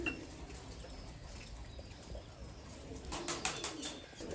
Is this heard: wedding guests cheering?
no